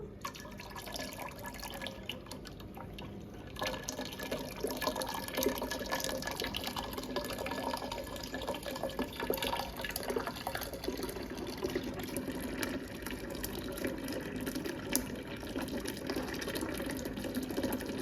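Peach juice trickles and drips steadily from a steam juicer's drain tube into a container, a faint continuous liquid splashing that runs throughout without any talk.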